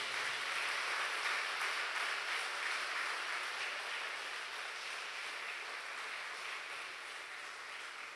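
A church congregation applauds together, a broad steady wash of clapping that stays fairly distant and soft, tapering slightly over about eight seconds.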